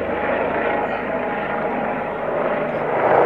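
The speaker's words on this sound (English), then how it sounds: "somebody decided to fly a helicopter up there," Steady droning roar of a helicopter passing overhead, continuous and fairly loud, swelling slightly toward the end.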